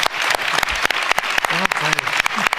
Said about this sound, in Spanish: Un aplauso a Ludwig y a todos sus colaboradores.